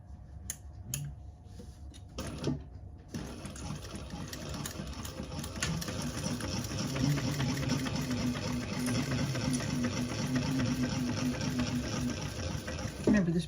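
A sewing machine runs close by doing top stitching on a garment project, starting after a few clicks and handling noises and then whirring steadily, with faint rhythmic ticking.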